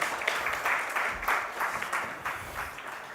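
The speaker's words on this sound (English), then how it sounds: "Round of applause once again," An audience at an Indian mental health survey report event gives a round of applause, many hands clapping steadily and fairly faintly, as if heard from the back of a hall.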